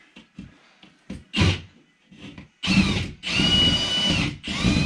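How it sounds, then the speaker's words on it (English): A power drill whirs in short bursts, then bites into a wooden wall stud in longer, louder runs, drilling through, close by. "now I'm through on this stud. I'm gonna drill through over here."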